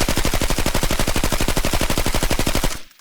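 A new weapon in Arena Breakout Infinite firing one loud, close, sustained automatic burst of very rapid, evenly spaced shots, stopping abruptly just before the end with nothing else audible.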